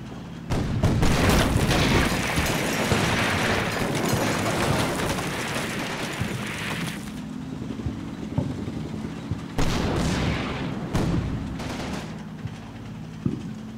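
Artillery shells burst in a Combat Mission World War II battle in Germany, heavy booms and rumbling blasts rolling over each other for several seconds, then a quieter lull broken by another loud detonation and scattered smaller impacts.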